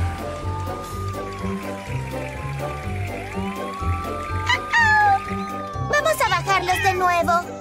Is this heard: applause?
no